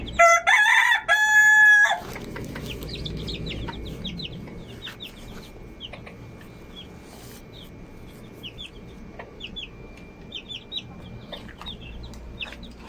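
A rooster belts out a loud, close crow in the opening seconds, then the flock keeps up a stream of soft, scattered clucks and chirps over faint farmyard background.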